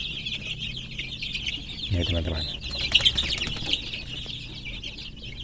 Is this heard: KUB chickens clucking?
yes